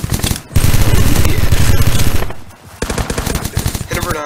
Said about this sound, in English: so the dual Berettas shoot fast, they just do absolutely crud damage.